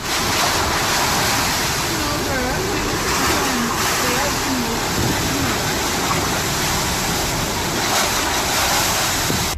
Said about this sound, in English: Take notice of the wind and rush of the waves.